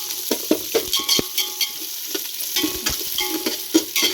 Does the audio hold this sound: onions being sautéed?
yes